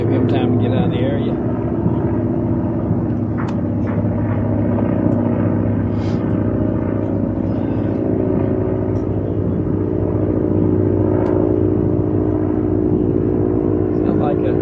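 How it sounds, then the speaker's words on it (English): An old biplane drones overhead with a steady engine hum that holds through the whole stretch, moderately close, under someone talking at times. "Sounds like an older aircraft of some type. It's a biplane."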